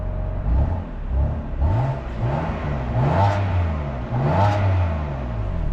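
BMW B58 straight-six with an M-performance exhaust, revved repeatedly in short blips that climb and fall back to idle, loud and close, several rising sweeps with a raspy exhaust note.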